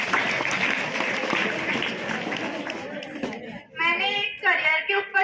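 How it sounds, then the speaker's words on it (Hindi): Students clap in a classroom during a school career fair presentation, a dense burst of applause that thins out and fades into a few scattered claps and voices at the end. "ताली बजाओ।"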